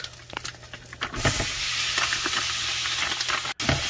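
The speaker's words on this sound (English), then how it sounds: "Add in the ground pork." Ground pork sizzles and hisses steadily in a hot pan as it is added and broken up, with faint stirring scrapes and a brief pause near the end.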